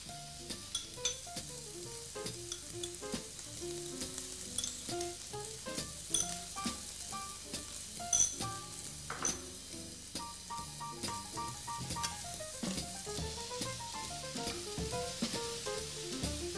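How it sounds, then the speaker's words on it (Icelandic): Finely chopped onion and potatoes fry in a pan, a soft continuous sizzle with occasional stirring scrapes, heard faintly beneath background music without talk. "Fínt saxaður laukur settur á pönnu og svo kartöflurnar."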